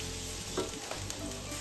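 Chopped garlic sizzles steadily in a hot pan for a Filipino-style beef stew, a close, even hiss with a few soft scrapes of stirring and no talk.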